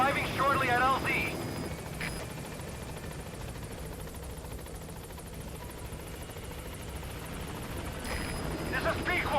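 A support helicopter in Metal Gear Solid 5 arrives at a landing zone in the savanna, its rotor drone steady and loud throughout, while radio voices talk at the start and end.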